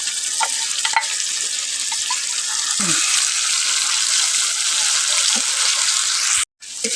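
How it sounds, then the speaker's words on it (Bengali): Ground spice paste frying with lightly fried potatoes in a hot pan gives a loud, steady, close sizzle, with a few stirring clicks and scrapes before a brief drop-out near the end. "এই যে মশলা দিয়ে ভাজার পরে হয়ে গেছে মশলা।"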